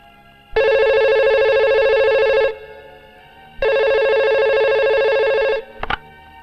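A telephone rings loudly and alone in two long electronic ring bursts with a pause between, then a brief click as it is picked up.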